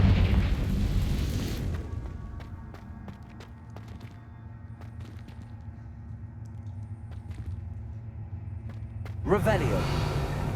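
A Confringo fire spell in Hogwarts Legacy bursts with a loud, broad explosive roar that fades into quieter rumbles and small clicks, followed by a second burst near the end, close and full, with game speech elsewhere.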